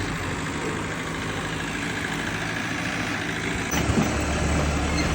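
A vehicle carrying grain home drones with a steady, low engine rumble and background rattle, growing slightly louder and heavier near the end.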